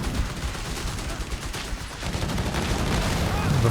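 Small-arms fire aimed at a building in Company of Heroes 3, a steady crackle of rapid shots at moderate volume, heard as a dense distant battle texture.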